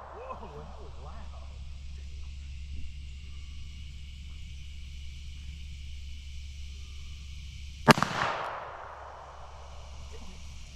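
A Ruger LCP .380 fires one sharp, loud shot with a hotter load at an outdoor range, ringing out briefly over a steady low hum after a long quiet stretch.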